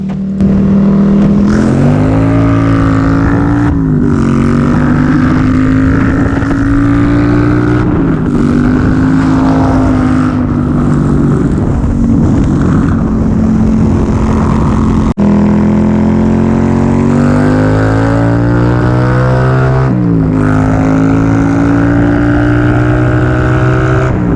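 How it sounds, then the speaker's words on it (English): A cruiser motorcycle's loud, steady engine rumble runs throughout, its pitch rising and dropping with repeated revving, close and continuous with no talking. "pick up the bike, and boy, am I ever happy I did, because just listen to how this thing sounds like"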